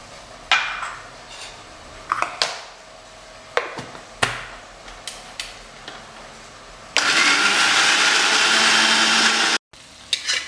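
A blender grinds yogurt, fresh coriander and two chillies into a fine paste. Scattered clatters and knocks of the jar come first, then a loud, steady whirring burst of a few seconds that cuts off abruptly.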